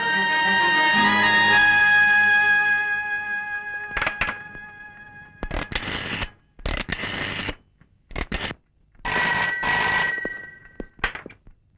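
A telephone at a police station rings in a Malayalam film scene, a loud, sustained electric bell tone lasting several seconds. It is followed by scattered short bursts of clattering noise and no clear speech.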